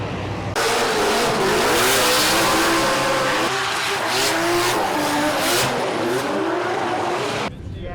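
Race cars running hard on a track with a drifting-style line, sustained loud engine roar with rising and falling revs and tire squeal, close and continuous for several seconds before cutting off.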